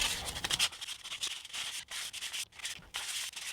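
Sandpaper of 150 grit roughing up the surface of a plastic brick, a close, steady scratchy rasp in quick back-and-forth strokes with brief pauses, no voices.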